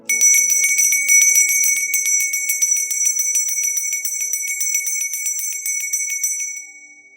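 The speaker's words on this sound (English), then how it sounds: "Gonna ring the bell and clear your energy," A small bell rung in a rapid, steady tremolo, bright and ringing continuously for several seconds before fading out.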